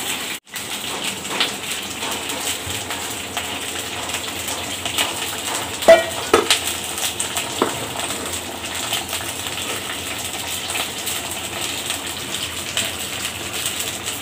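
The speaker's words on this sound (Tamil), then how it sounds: "கத்திரிக்காயை வந்து நல்லா இந்த மாதிரி எண்ணெயில் போட்டு நல்லா வதக்கிக்கலாம்." Eggplant sizzling as it sautés in hot oil for a tamarind curry, a steady, close frying hiss with scattered pops and crackles running through the whole clip, no talk.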